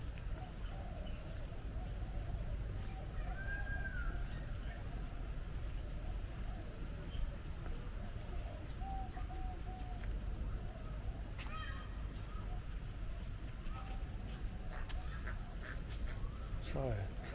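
Birds call at a Kuala Lumpur bird park, with scattered short honks and quacks, like ducks or geese, rising over a steady outdoor wash of ambient noise and faint background voices.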